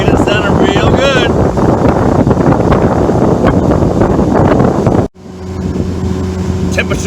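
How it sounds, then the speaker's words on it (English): Boat powered by a Volvo Penta 5.0 engine fitted with Marinetorq stainless steel manifolds runs steadily, a loud continuous drone with heavy wind buffeting, then a sudden cut to a quieter idle-like hum. "So we had the boat running about an hour."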